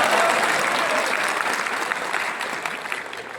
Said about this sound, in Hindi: आप इसलिए ताली बजा रहे हैं कि आपकी बात मैं कह रहा हूँ